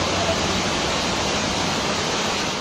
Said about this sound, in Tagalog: kulay putik na baha ang rumagasa sa hagdan ng elementary school na ito sa Jose Panganiban, Camarines Norte